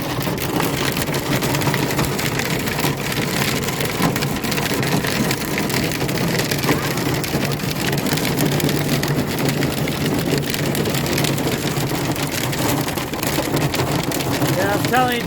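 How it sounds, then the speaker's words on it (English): Pea-sized hail hammering down, a loud unbroken roar of dense pelting impacts on a hard surface, steady throughout with a faint engine hum beneath. "I think I want to stop long enough, let this hail quiet down"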